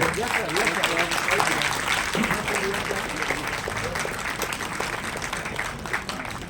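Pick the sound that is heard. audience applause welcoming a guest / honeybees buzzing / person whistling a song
audience applause welcoming a guest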